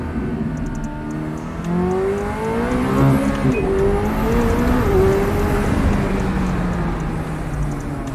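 A McLaren sports car engine revs loudly and close, rising and falling in pitch over several seconds as the throttle is worked, with no talk.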